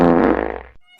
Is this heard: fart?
yes